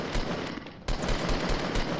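Rapid automatic gunfire in the Fortnite battle royale game, dense and loud with a steady hammering rhythm, a brief break near the middle, then continuing unbroken to the end, with no voices over it.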